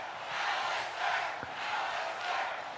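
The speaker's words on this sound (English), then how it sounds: "What a crowd chanting his name" Arena crowd in the video game WWE 2K25 chanting a wrestler's name, a rhythmic swelling roar repeating in steady beats, loud and continuous with no clear speech on top.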